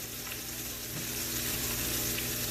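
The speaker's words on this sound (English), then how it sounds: "Don't forget to come stir your roux." Roux cooking in a pan for a from-scratch chicken fricassee, a dense continuous sizzle with faint stirring underneath, close and steady with no talking.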